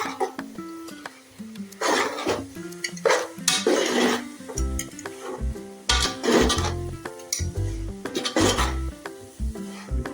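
Sautéing in oil in a home kitchen while cooking for Eid: a spoon scrapes and clatters around the pan in irregular bursts over a continuous sizzle, with occasional louder clanks of metal.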